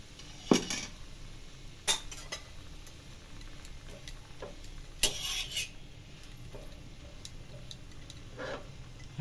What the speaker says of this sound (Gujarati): બીજા ઉખણિયા વડે ફેરવવાની છે